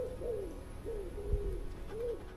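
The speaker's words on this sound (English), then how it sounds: "Just birds, mate, just birds" Hooting bird calls drift through woods at night, a soft, repeated rising-and-falling note about every second over faint background hiss, with no talking.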